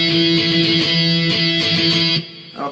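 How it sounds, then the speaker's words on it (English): An electric guitar strums octaves in the chorus pattern, a loud, bright, driving rhythm that cuts off near the end, played alone without speech. "so what we're doing there then is playing octaves instead of power chords"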